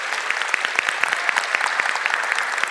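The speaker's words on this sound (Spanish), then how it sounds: "quiero que le demos un fuerte aplauso a la secretaria general" An audience at a book presentation applauds: brief, steady clapping from many hands in a hall, with a few sharper individual claps standing out.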